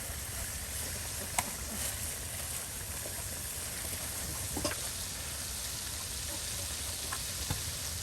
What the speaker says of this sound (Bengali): এই যে এখন বাটা মশলাগুলো দিয়ে দেওয়া হচ্ছে। বেশ সুন্দর করে কিন্তু মশলা কষিয়ে নেওয়া হচ্ছে।